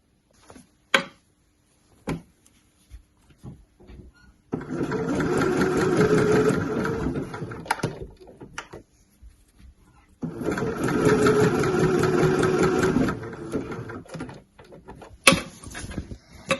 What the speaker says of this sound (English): I'm now just going to zigzag round that hem in the same way as I did the cuffs